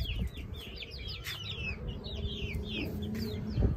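Hens and chicks clucking and chirping outdoors in the rain, several birds calling in short overlapping bursts over a steady low background rumble.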